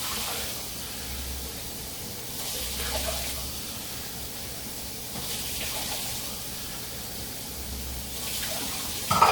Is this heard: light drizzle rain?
no